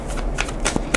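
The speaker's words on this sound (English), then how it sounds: "2 more shuffles." A tarot deck is shuffled by hand at close range, a quick riffling flutter with several soft bursts of card slaps over about a second, alone with no speech.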